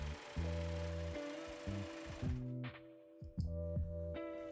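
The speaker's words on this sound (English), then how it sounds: "To do this, I'm going to be using a serger" A serger runs in several short bursts, a rapid mechanical whir that starts and stops, close and fairly quiet, while it finishes the side seams of a skirt.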